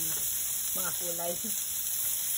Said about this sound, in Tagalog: Sauté-sauté lang natin guys hanggang mag light brown ang kung kanyang kulay